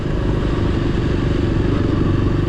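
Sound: motorcycle riding on a road

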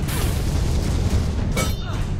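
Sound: chain shot attack hitting player, Alice: Madness Returns video game

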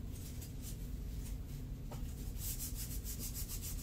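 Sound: scratching the bottom of a tray for resin art

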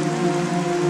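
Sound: heavy rain

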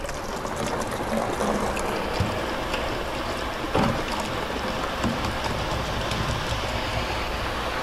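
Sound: CM20 continuous mixer running

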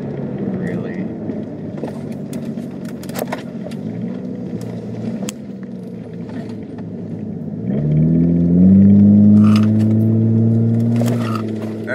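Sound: 2007 Hyundai Tiburon GT driving, engine at about 1500 RPM

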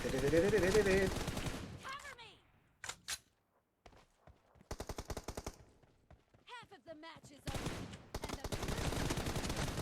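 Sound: gunfire from guns in PUBG Mobile video game

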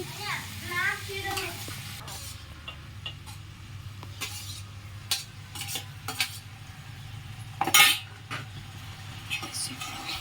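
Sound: prawns frying in a pan

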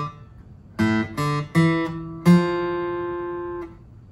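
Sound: guitar playing a bar of a song

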